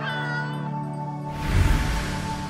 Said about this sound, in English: there's a cat outside the shop.